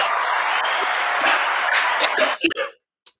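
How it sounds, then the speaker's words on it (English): A comedy show audience applauds and chuckles in a dense, loud burst that holds steady, then breaks into a few scattered claps and laughs before dropping to near silence. "Love the applause. Can I get another, please?"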